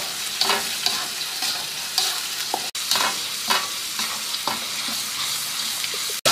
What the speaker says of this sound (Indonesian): Kita tumis macam kita nak buat sambal lah. Kita tumis garing.